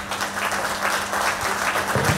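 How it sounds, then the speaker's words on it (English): A room full of people applauds, steady dense clapping that holds evenly for a couple of seconds. "Big applause."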